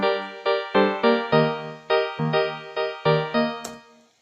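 A dry piano preset from the free Quilcom Mystery plugin plays a chord progression, about a dozen struck notes and chords in a moderate rhythm, each decaying quickly, clear and close with no other sound.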